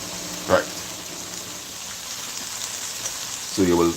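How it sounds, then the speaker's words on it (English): Cabbage and tomatoes frying in a pot, a steady close sizzle running throughout, with brief louder bursts of clatter or stirring near the start and again at the end. "So you will start to hear it frying up nicer."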